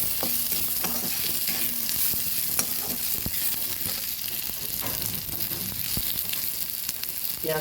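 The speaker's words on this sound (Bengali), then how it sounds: "পেঁয়াজটা ভাজা হয়ে গেছে" Onions fry in a pan while a spatula stirs them, a steady close sizzle broken by frequent scraping strokes, with no voices.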